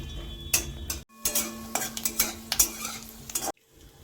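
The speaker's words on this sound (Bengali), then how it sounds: "এখন আমি একটু বাদাম ভাজবো" Peanuts fry in hot oil with a soft sizzle while a spoon scrapes and stirs in short bursts, close by, ending in a quiet pause.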